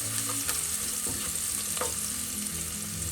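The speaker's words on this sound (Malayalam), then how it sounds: "മീഡിയം ഫ്ലെയിമിൽ വെച്ച് വഴറ്റാം." Green chillies, ginger and garlic sauté over a medium flame for a mint leaf chicken curry, giving a soft continuous sizzle with a few light stirring scrapes.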